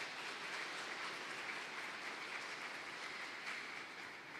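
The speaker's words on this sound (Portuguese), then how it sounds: "dê uma salva de palmas para os homens batistas" Seated women and children in a Baptist church congregation applaud the men, a soft, steady patter of many hands clapping, heard from a distance with no voices over it.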